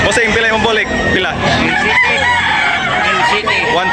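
Roosters crow amid clucking fowl at a chicken sale, loud close calls overlapping with people talking, several rising crows and chatter packed into a few busy seconds.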